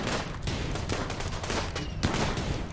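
Rapid gunfire from the combat in the video game Rimworld, a dense, continuous crackle of shots with no voices over it.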